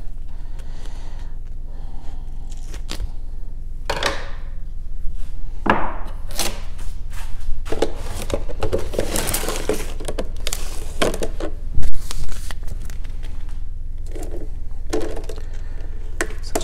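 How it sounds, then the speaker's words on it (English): Duct tape is pulled and wrapped around a plastic milk jug, giving repeated sharp ripping and crackling bursts over a steady low hum, close and fairly loud. "Make sure you stretch out a big enough piece to get all the way around."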